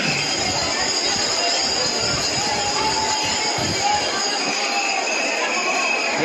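A crowded Tarakeswar local train pulls into a station, its wheels squealing with high metallic tones over a continuous rolling rumble, loud and close, with faint crowd voices underneath.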